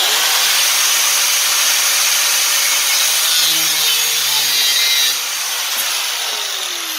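Power saw cutting through a metal armature piece for a 3D printed armor display stand, a loud continuous harsh buzzing grind that lightens a little near the end, up close with no talking.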